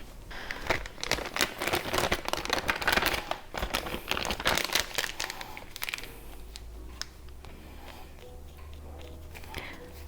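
Close crinkling and squishing of a plastic icing bag being pressed down during sugar cookie decorating, busy for the first several seconds, then fading to faint handling rustles.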